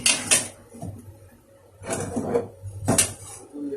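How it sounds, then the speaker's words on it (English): A metal kadai is set down on a gas stove with a few sharp clanks and clatters in separate bursts, close and fairly loud, with no talking. "I'll put a kadai on another gas"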